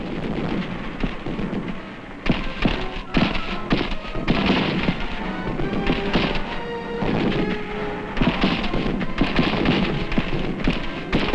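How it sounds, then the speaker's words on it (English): Gunfire in a close, rugged Korean War hill battle comes from old newsreel sound as a dense, continuous barrage of thuds and booms, loud and unbroken throughout. "UN troops are able to bring fire directly on the main enemy positions in close, rugged fighting."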